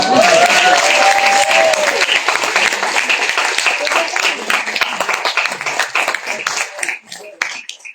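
An audience at a Francophonie awards ceremony applauds prize winners, dense clapping rising at once and thinning gradually toward scattered claps at the end, with a brief voice over the opening.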